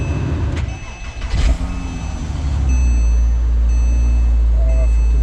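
Engine of a 2007 Porsche Cayman 5-speed starting up: warning chimes, a starter crank, then the engine catching into a loud, steady low rumble that holds to the end.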